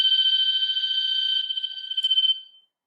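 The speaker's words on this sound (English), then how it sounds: "My buzzer." A door buzzer sounds alone: one steady electronic tone, loud at first, lasting about two and a half seconds and ending in a brief fluttering pulse before falling silent.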